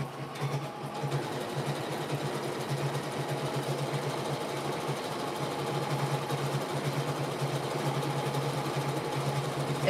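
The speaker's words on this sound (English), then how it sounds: "This is the S9. Brandy, this is the S9. It sews very nicely" Skyline S9 sewing machine stitching steadily at close range, a continuous even whirring hum with fine rapid needle pulses that holds at constant loudness throughout with no talking.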